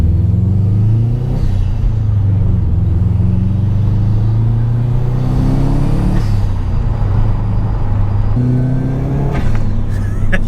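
Subaru Impreza P1 turbo engine accelerating through the gears, loud in-cabin roar climbing in pitch, dropping at each shift, then climbing again, with a hiss of boost near the end.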